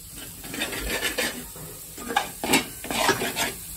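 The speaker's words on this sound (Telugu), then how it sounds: "ఇప్పుడు ఇందులో క్యాప్సికం వేసేద్దాం." Chopped capsicum goes into a hot pan of tomato and spice base for chole masala, with close stirring scrapes, clinks of a spoon against the pan and a steady sizzle throughout.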